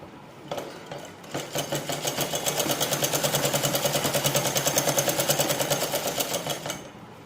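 A sewing machine runs steadily while stitching petticoat fabric, a fast, even mechanical rattle after a brief start-up, close and fairly loud, with no talking.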